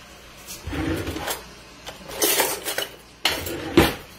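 A metal spoon clinks and scrapes against a cooking pot in a few bursts, with clattering and brief quiet gaps between.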